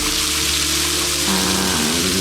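A small waterfall in Argentina, carrying little water during a drought, rushes steadily with a constant broad hiss, alongside a low, steady hum.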